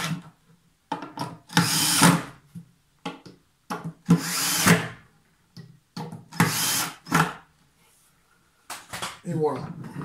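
A power screwdriver drives screws through a pre-drilled table top to fix it onto an under-table saw, giving several short loud whirring bursts separated by pauses, with someone speaking French nearby.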